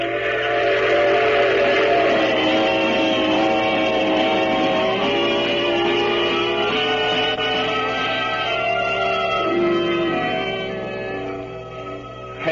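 A train sound effect from a 1950 radio drama: a continuous rumbling run with a sustained, multi-toned steam whistle over it, loud and steady throughout before easing slightly near the end.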